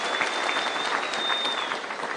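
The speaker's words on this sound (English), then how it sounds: "Let's give them a clap." An audience claps for prisoners at a bishop's consecration service, a dense, steady round of applause that holds evenly throughout without a break.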